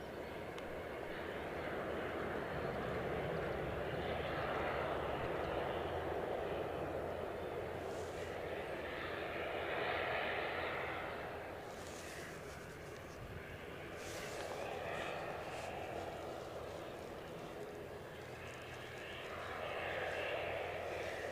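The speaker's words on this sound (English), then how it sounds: "The ATR is going out short." ATR turboprop departing Edinburgh Airport, a fairly faint, distant engine drone that rises and fades in several slow swells over a steady outdoor background, with some faint voices now and then.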